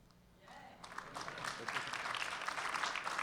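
An audience at a lecture on limits of federal power breaks into applause that starts quietly, then swells into steady, dense clapping from a sizable crowd, sustained and fairly close.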